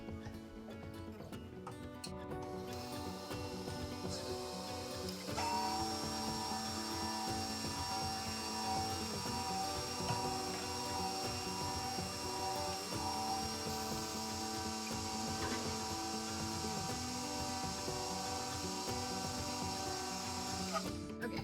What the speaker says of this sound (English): now we're just going to run it through the meat grinder and throw it in the crock pot